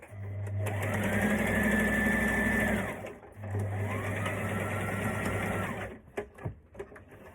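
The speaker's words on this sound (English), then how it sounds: "Back stitch, get the ends in." A sewing machine back stitching the seam of a maxi skirt hums steadily in two runs of a few seconds each, followed by a few clicks and handling knocks as the stitching stops.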